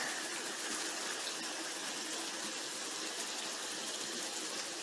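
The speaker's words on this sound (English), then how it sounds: "Well, down here we've got the bubblers." Water bubblers in a spray concrete pool water feature, a continuous hissing gush of splashing water, steady and fairly faint with no voices.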